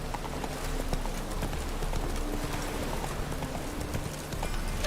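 Roach the horse trots along in The Witcher 3, her hooves clip-clopping in a steady, close rhythm over a continuous game soundscape.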